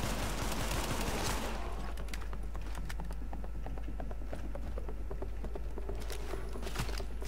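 Rapid gunfire from The Division beta in a lone-wolf firefight, dense bursts of sharp shots crackling steadily for several seconds at close range, with no voices.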